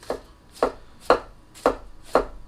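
Five firm, evenly spaced cuts of a very sharp knife going through food, each a crisp close slice landing on a cutting board, alone with no talk.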